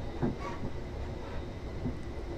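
A Class 444 electric multiple unit in Train Simulator 2015 rumbles as it brakes toward a platform on the Portsmouth Direct Line, a steady rolling drone with faint wheel squeals.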